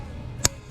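A single short, sharp click from a 3/8-inch torque wrench sounds close by in a workshop, one crisp snap over quiet background hum.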